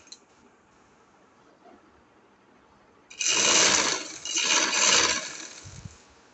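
A sewing machine runs close by, stitching the side of an angrakha frock in two short bursts of bright whirring after a quiet stretch of faint room noise.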